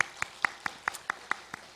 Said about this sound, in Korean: 대전 한빛교회와 우리 백용현 목사님, 우리 안 보이지만 박수 한번 써드립시다.